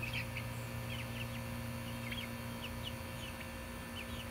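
Soft, scattered chicken clucks and chirps recur throughout from inside a coop over a steady low hum, fairly quiet and a little distant.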